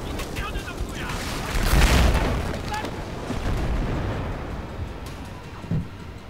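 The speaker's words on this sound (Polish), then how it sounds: "Coś wybuchło." A deep, booming explosion in the Battlefield 4 video game rolls out with a rumbling swell, followed by lingering battlefield noise and a smaller thump.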